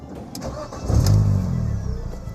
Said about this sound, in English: I'm going to start her up, all right?